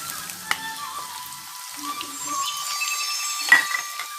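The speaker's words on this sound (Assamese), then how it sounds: "এতিয়া কাটি থোৱা পিঁয়াজখিনি তেলত যোগ কৰি দিম" Chopped onions are dropped into hot oil in a pan for a pahadi chicken curry, making a quiet crackling sizzle with a few sharp clinks from a utensil. Faint background tones run underneath and no one speaks.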